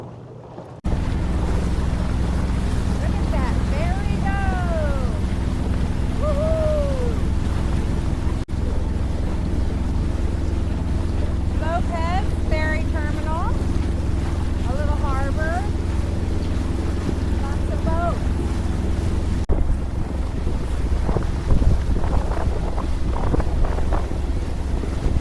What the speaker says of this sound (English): The wind is definitely dying down a little bit here as we hit the confluence between it and Lopez.